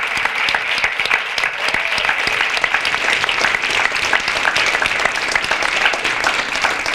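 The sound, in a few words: rowdy applause from the audience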